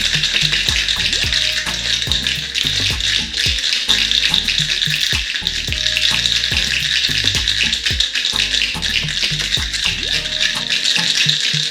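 Ice cubes rattling hard inside a cocktail shaker while a Peruvian pisco sour is mixed, a loud, fast continuous clatter with sharp knocks, steady throughout with no talking.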